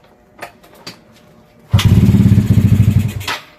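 A Yamaha Mio Sporty motorcycle with an overhauled engine and freshly added fuel gets a few short cranking attempts, then fires and settles into a loud, fast, lumpy idle up close before cutting off.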